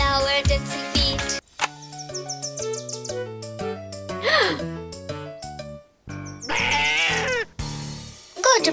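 Cartoon goat bleat as a sound effect within an upbeat children's freeze-dance song, a short wavering bleat rising over bright sung music and instruments, with other playful effects around it.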